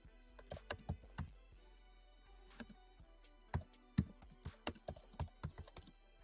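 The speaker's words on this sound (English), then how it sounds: "I know y'all could probably hear my keys. Clickety clacking away." Computer keyboard keys clack in irregular bursts of sharp taps, near and fairly quiet, with brief pauses between runs and no talk.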